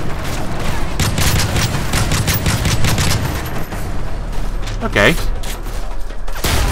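Sustained automatic gunfire in Call of Duty Modern Warfare 3, rapid loud bursts of shots close up with mechanical clanks, and a player briefly speaking over it.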